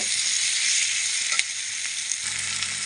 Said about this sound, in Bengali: এর উপরে টমেটোটা দিয়ে দেব টমেটোটা দিয়ে আর একটু ভেজে নেব